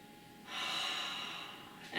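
A single deep, audible breath during a runner's stretching session, a soft breathy inhale that swells then fades, close and alone.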